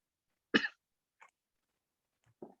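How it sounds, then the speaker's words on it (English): A short throat clearing, followed by a faint second rasp and then another brief throaty grunt, in an otherwise quiet room. "Let me go and clear my throat first."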